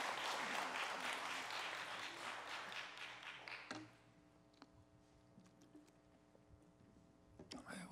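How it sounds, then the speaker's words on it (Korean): A church congregation claps in welcome, loud, dense applause that holds for several seconds and then dies away abruptly. Faint room sounds and a few light taps follow in the quieter remainder. "우리 이재만 선교사님 나오실 때 할렐루야 박수로 환영하겠습니다"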